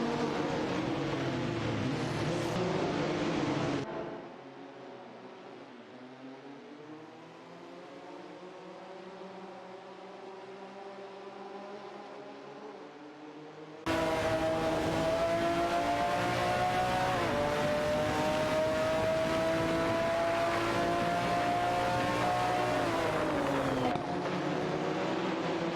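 AI-driven race cars in a racing simulator game whine past in long sustained engine tones, loud at first, then dropping to a quieter stretch before a sharp cut back to a full, rising engine scream.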